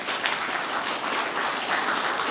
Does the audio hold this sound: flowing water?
no